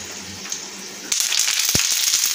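Chilies hit a spoonful of hot oil in a pan on a gas stove, bursting into a loud, bright sizzle after a quieter stretch, with a few crackling pops over the steady hiss.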